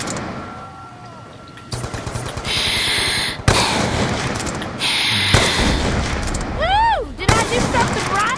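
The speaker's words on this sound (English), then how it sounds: "what you need to do is get long shots with this sniper" Sniper rifle fire in Call of Duty zombies on the Buried map: several loud, booming shots spaced a second or two apart, each trailing into a short echoing tail.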